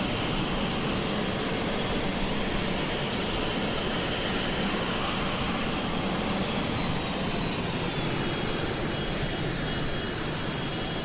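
Steady, loud roar of a business jet's engines in Microsoft Flight Simulator 2020, with high whining tones that drop in pitch near the end, continuous and alone with no talk.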